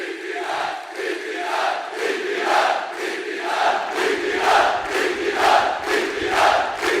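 A large crowd at a political rally claps and cheers in a steady rhythmic pulse, roughly once per second, loud and continuous throughout.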